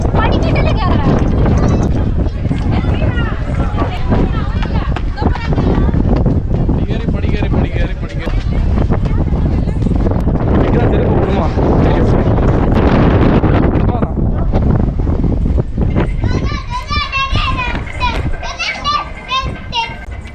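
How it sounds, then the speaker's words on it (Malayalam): Strong wind buffets the microphone on the way to Vivekananda Rock at Kanyakumari, a loud continuous roar that runs through the whole stretch, with children and adults chattering close by over it. "നല്ല കാറ്റുണ്ടല്ലേ."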